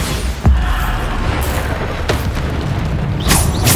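Bombarda explosion spells going off in Hogwarts Legacy combat, a loud close boom at the start followed by further blasts and crackling bursts over a busy game soundscape.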